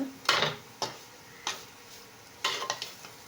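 A spoon scrapes and knocks in a pan as a carrot stir-fry with chilli and cumin powder is stirred, giving four or five distinct scraping strokes with quiet gaps between them.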